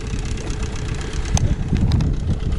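A Mikatsu 9.8 outboard motor runs steadily on a boat during break-in, producing a continuous buzzing drone mixed with water and wind noise and a few faint knocks, with no voices.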